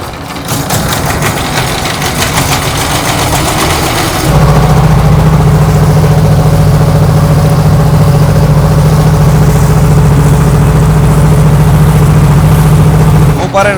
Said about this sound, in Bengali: এটা হচ্ছে আমাদের নৌকা, অনেকটা ফেরির মতো নৌকা। আমরা এখন এই নৌকায় করে পার হব।